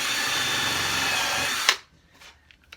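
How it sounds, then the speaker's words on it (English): A power drill bores a shallow hole the width of a screw head into wood for a rustic bar stool, whirring loudly and steadily for under two seconds before stopping abruptly, leaving near silence. "drill out a hole that's about the head of the screw"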